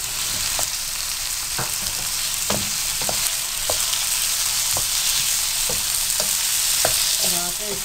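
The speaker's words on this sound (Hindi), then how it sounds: "कम से कम 5 मिनट के लिए अच्छी तरह से फ्राई करना है।" Marinated beef pieces frying in a pan, loud continuous sizzle with repeated sharp scrapes and clacks of a spoon stirring at an uneven rhythm, close up and without talk.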